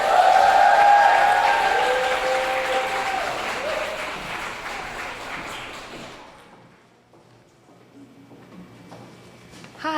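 Audience applause welcoming an author at a writers' reading, loud and dense at first, then thinning out and fading into near silence before a small noise at the end.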